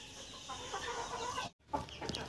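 A desi hen that has just laid eggs in its nest clucks softly and repeatedly in a short run, broken by a brief gap before the clucking resumes, fairly faint and close.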